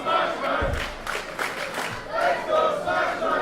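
Crowd at a live wrestling show roars and shouts in rising, surging waves, a loud, broad cheer that swells and dips across the whole stretch with no commentary on top.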